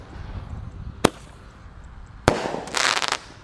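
Two sharp, loud firecracker blasts from a 0.8-inch five-shot candle, set off during a Ramadan evening gathering, are spaced about a second apart, followed by a brief crackling, sizzling burst. Faint background noise fills the gaps.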